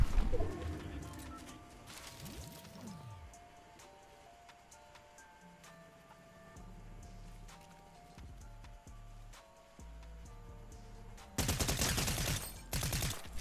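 Gunfire from a weapon in Fortnite: scattered single shots ring out over ambient game sound, then a dense, loud burst of rapid shots near the end.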